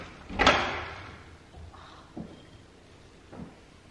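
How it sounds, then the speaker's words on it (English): An oven's slide-out drawer in a newly fitted home kitchen opens with a loud sliding whoosh near the start, followed by two softer knocks later, all close by with no talking. "It has slide out drawers."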